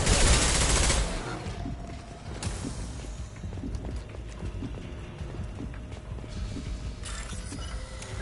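Assault rifle fire in Mass Effect 2, a sharp burst at the start followed by a long run of rapid, rattling shots under dense in-game action and mechanical clatter.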